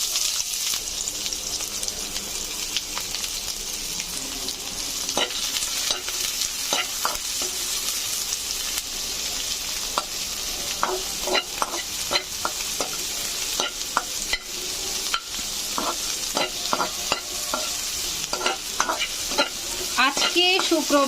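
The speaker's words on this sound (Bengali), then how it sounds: "তারপর আমি দিয়ে নিচ্ছি কিছুটা পেঁয়াজ কুচি।" Chopped onions sizzle in hot oil with cardamom pods and a cinnamon stick for a restaurant-style mutton curry, a steady close frying hiss broken by repeated scraping clicks of a spoon stirring the pan.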